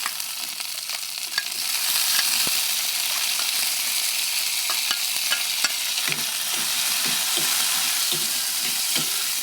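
Eggplant, bitter gourd, garlic and onion sautéing in a frying pan, giving a steady loud sizzle with repeated sharp taps and scrapes of a utensil stirring, with no talking.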